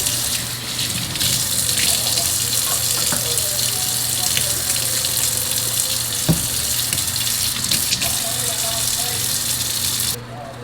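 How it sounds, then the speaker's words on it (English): Running tap water and swirling as a makeup brush is washed with soap at a sink, a steady continuous gush with a few small clinks, close and loud throughout; a voice speaks in the background. "So first I'll just, you know, swirl it around, get the soap inside of the brush"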